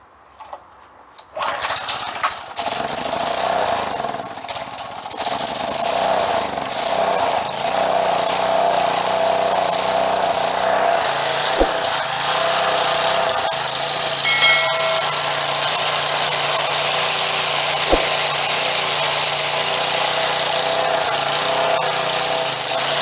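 A lawn edger on full choke and full throttle fires up on its first start after a spindle bearing replacement, its small engine sputtering to life and then running steadily and loudly on its own with a raspy, buzzing drone.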